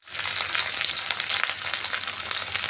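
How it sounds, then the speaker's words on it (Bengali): Fish frying lightly in a hot pan, a steady close sizzle with fine crackles that holds evenly throughout, no voices. "হালকা করে ভেজে নিচ্ছি মাছগুলো"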